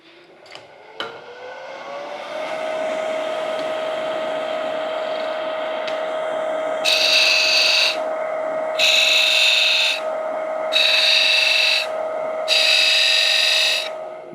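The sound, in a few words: wood lathe running, tool cutting small grooves into wood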